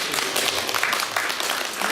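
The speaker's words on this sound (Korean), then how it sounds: "그래서 여기 있는 분들 우리 한번 박수 한번 하겠습니다" A church congregation claps together during worship, a dense, even burst of applause filling the space.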